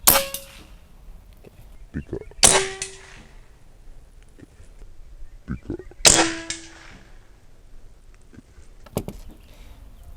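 Three sharp metallic clangs spaced a few seconds apart, air rifle pellets striking a metal target, each a bright ringing ping that decays quickly, with faint background noise between hits.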